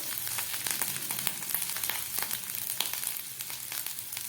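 Garlic and ginger sizzling in hot oil with nigella seeds, a steady crackling fry with small popping spatters throughout, close and continuous with no talking.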